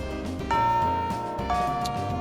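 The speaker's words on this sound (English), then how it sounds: "the bell signaling the end of class rings" School bell from the Fate/Extra video game chimes twice, two bright sustained electronic tones about a second apart over soft background music.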